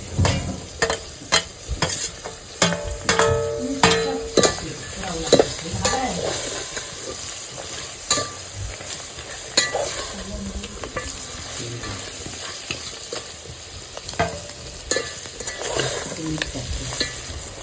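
Turmeric and ground spices frying and being stirred in a pan for a Konkan-style curry, with steady close sizzling and repeated scraping stir strokes throughout, no talking.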